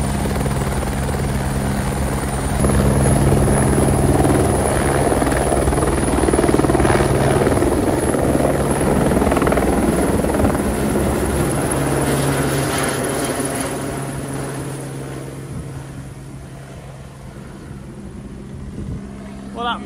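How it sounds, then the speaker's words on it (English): A helicopter roars loudly and steadily close by, its rotor thudding throughout, with wind buffeting and voices talking underneath. "Problem with filming helicopters is it gets windy on your phone."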